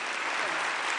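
Audience at a university welcome day and oath-taking ceremony applauds steadily, a dense even wash of clapping lasting the whole second at moderate level.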